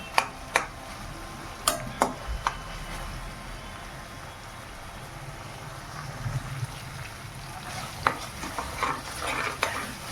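Onion, tomato, turmeric and homemade Agri masala simmer in a pan for a dried Bombay duck dish, with a low steady bubbling and a few sharp spoon scrapes and taps against the pan.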